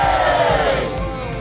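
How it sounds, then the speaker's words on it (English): A large crowd roars and cheers at the Tower of London, a loud sustained wall of voices with yells rising over it, holding steady then easing slightly toward the end. "Then the crowd would roar again, a little bit louder this time."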